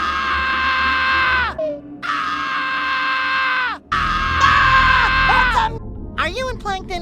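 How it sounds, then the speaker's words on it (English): SpongeBob screams again and again in a SpongeBob video game: long, loud, high-pitched wails with short breaks between them, the last ones cracking and wavering. "they really do like SpongeBob screaming in this game"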